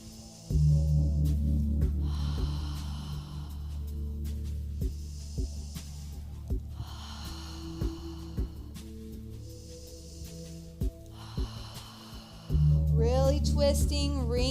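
Slow breathing during a seated yoga twist, soft airy breaths repeating at a steady pace under quiet background music, with a voice speaking briefly at the end.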